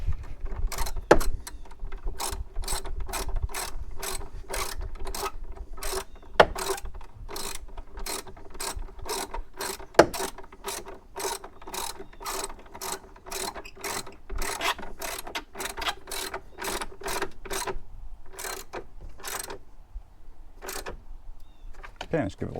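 A ratchet with a 12 mm socket clicks rapidly in repeated strokes while tightening the battery hold-down bolt on a 2022 Hyundai Palisade, close and crisp with short pauses between runs of clicks.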